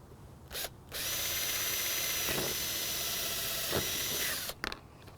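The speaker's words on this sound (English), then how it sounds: "We can actually drill right through it." A power drill bores straight through a plastic pipe end cap for an RV holding tank flush wand, a sustained close whine of several seconds framed by brief clicks and handling noise.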